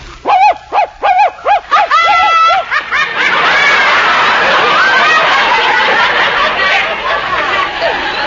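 A performer in a 1948 radio comedy imitates a dog with a series of short yapping barks, then the sound dissolves into wild, abandoned hysterical laughter from the same voice.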